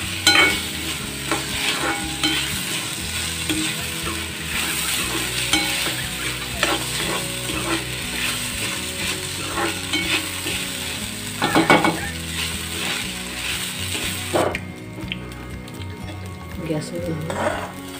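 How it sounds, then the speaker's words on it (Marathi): Soaked rice roasting in a pan for kheer, stirred continuously with scraping spatula strokes over a steady sizzle, close up; a voice speaks in the background for much of it, and the sizzle thins out near the end. "आता प्रथम आपण तांदूळ परतून घेऊ, छान भाजून घेऊ।"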